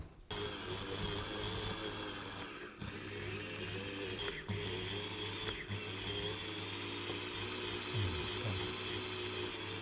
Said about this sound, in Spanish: Ya veis cómo ha quedado el conjunto este de engranajes, tornillos sin fin y corona